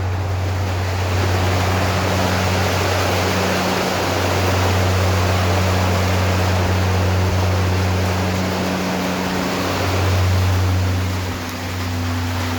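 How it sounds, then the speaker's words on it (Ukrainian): Gusts of rain fall outdoors on a rural homestead, making a loud, continuous wash of noise that swells and eases slightly. A steady low hum runs underneath, and no voices are heard. "Ось такі пориви дощу."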